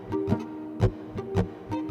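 Muted down strums across guitar strings in a steady rhythm give about six dull, percussive chucks with a faint pitched ring, played close and fairly quiet.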